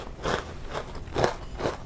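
Four distinct crunching bites into a dry German military ration biscuit cake, each a short crisp crackle about half a second apart, close up and alone without talk.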